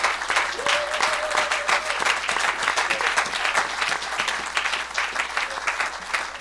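A church congregation breaks into dense, sustained applause during a French-language sermon, loud and steady throughout, with a brief sung or called voice rising above the clapping near the start.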